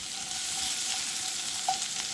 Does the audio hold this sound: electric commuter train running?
no